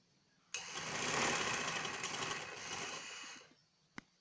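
A sewing machine runs in one steady burst of about three seconds, stitching frills onto a skirt, then stops, followed by a single sharp click.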